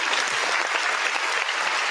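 Studio audience applauding steadily for a show member, a dense, even burst of clapping that fills the whole short stretch at close range.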